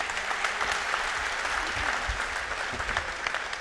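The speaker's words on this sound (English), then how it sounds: "Okay, give him a big applause." An audience at a design conference claps steadily, a close, even roar of many hands that carries through the whole short moment without pause.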